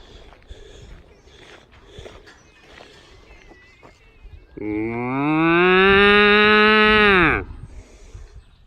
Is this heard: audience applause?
no